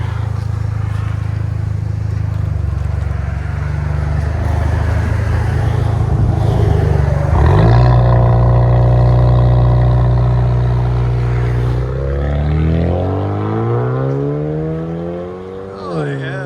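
Straight-piped 2017 Kia Optima SXL 2.0 Turbo engine revving up and falling back, a loud, close, raspy exhaust roar with rising and dropping pitch sweeps.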